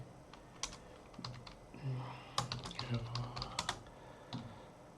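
Computer keyboard typing while writing code, with scattered single clicks early on that grow into a dense run of close key taps, alongside low background sound.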